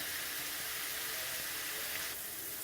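Mushrooms cooking in hot water in a pan, a steady soft hiss and simmering sizzle with gentle bubbling, constant and fairly quiet throughout.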